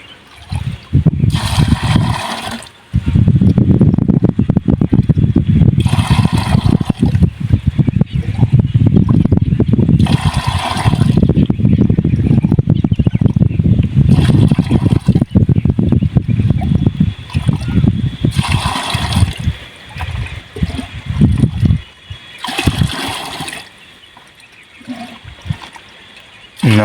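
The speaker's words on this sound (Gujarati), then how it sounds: "મિત્રો હવે આપણે ડોલમાં 10 ડબલા પાણીના લઈ રહ્યા છીએ" Water splashes and gushes into a bucket as ten cans are poured one after another, with loud pours broken by short pauses and people talking in between.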